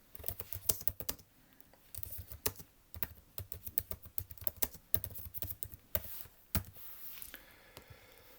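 Computer keyboard typing in short irregular bursts of close, crisp key clicks, with brief pauses between runs of keystrokes while answers are entered in an online survey builder.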